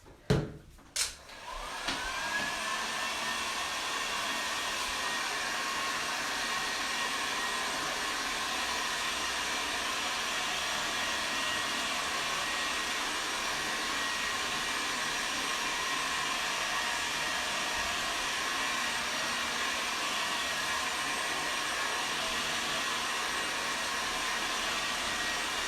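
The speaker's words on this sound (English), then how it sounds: "I'm going to give that a quick blast with the hairdryer" A hair dryer starts with a few clicks and then blows steadily and loudly throughout, used to dry paint on cute bunny rabbit tails in an Easter bunnies painting session, with no talking over it.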